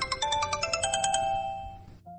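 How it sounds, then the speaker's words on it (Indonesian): A mobile phone ringtone plays a rapid, bright repeating melody for about two seconds, then cuts off, followed by a short soft tone. "Terdengar suara handphone milik Ikram yang terus berdering berkali-kali"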